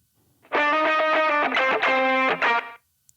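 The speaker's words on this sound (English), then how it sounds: "Just for that slapback delay." Processed instrument track with slapback delay, drive, filter and room reverb, playing dense harmonic chords for about two seconds with a short echoing tail, loud and alone.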